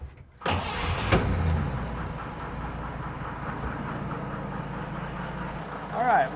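A warm car engine idles steadily during a valve adjustment check on a carburetor-tuned motor, a continuous close rumble that stays even throughout, with a brief clatter near the start.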